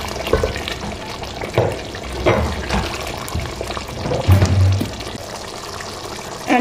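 Fish frying in a pan of hot oil for egusi soup, a steady close sizzle broken by several louder bursts and clatters as the pieces go in, with no talking.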